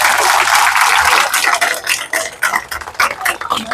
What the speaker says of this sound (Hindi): तो मनोज तिवारी के लिए ताली नहीं बजाओगे?